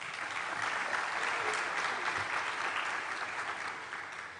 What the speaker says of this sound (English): Please give a round of applause to the faculty